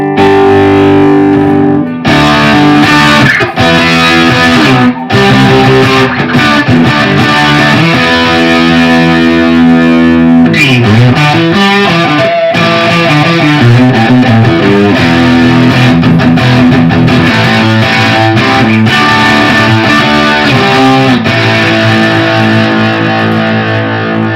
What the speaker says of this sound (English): on the DS1 I've got the tone's about less than halfway, distortion is straight up, and the level is straight up